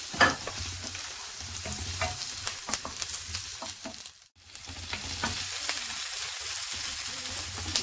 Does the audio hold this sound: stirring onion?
yes